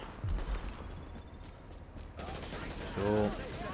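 Bursts of gunfire in Tom Clancy's The Division crackle over a noisy, busy game soundscape, with a voice speaking briefly near the end.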